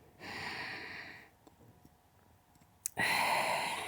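Deep breathing during a vinyasa yoga flow: a long airy inhale, a quiet pause, then a strong forceful exhale, close and clear with no talking.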